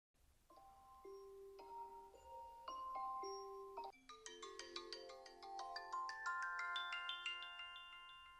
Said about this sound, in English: Turn on your device and select a ringtone.